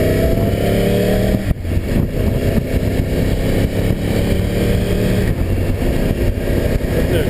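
A Yamaha R1 sport motorcycle's engine drones loud and close without a break, its pitch shifting slightly as it revs during a ride, with steady wind-like roar underneath.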